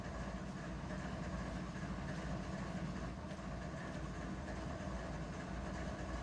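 A train in the Run 8 rail simulator game rumbles steadily with a dense, continuous low roar and no talk over it.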